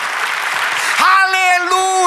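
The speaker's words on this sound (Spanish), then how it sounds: "Denle un aplauso al Señor." Church congregation claps together in a dense burst of applause for about a second, then the clapping fades as sustained tones, likely music or singing, take over.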